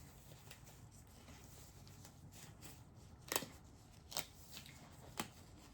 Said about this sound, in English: now I'm going to be putting on my gloves